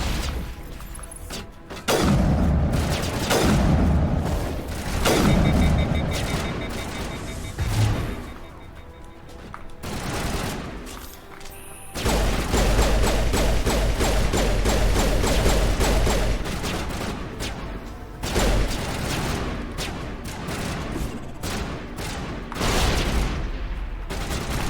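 Assault rifle fire in a video game, long rapid bursts of loud automatic shots with booming impacts, broken by brief pauses before firing resumes.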